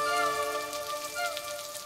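Steady rainfall patters on a surface, a dense continuous hiss with scattered droplet detail, no voices.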